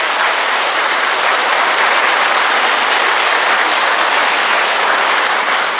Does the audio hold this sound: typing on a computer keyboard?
no